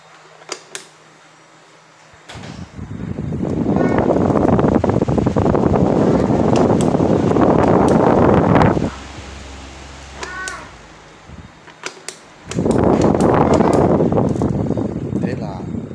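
A standing electric fan, freshly cleaned and fitted with a replacement motor, runs in two stretches of steady, loud whooshing airflow. A quieter gap separates them, and faint voice sounds come through in between.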